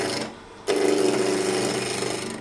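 A woodturning lathe spins a wooden spindle blank, its steady motor hum picking up sharply after a brief quiet dip and holding a constant tone with faint tool contact, close and fairly loud.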